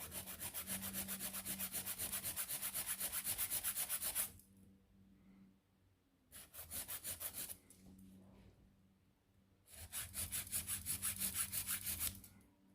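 A nail file rasps rhythmically across fingernails in fast back-and-forth strokes, close and crisp, in three bursts separated by short pauses.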